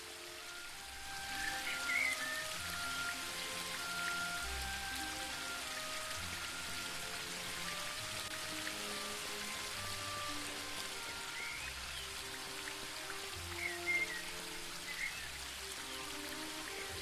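Continuous watery rush and patter from a waterfall in the game The Book of Unwritten Tales 2, quiet and even throughout, layered with soft melodic background music and occasional faint chimes.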